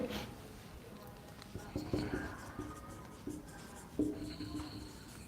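Pen scratching across paper in a quiet room, with short strokes and brief pauses over several seconds, soft and close.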